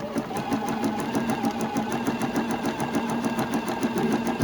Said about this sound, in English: I'm going to go all the way around the outside of my orange peel. And I'm sewing that, keeping that on the edge, not going too fast.